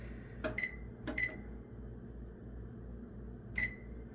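An oven's control panel beeps while being set to bake at 325 in a home kitchen: three short, clear electronic tones, two close together and one after a pause, over a low steady hum.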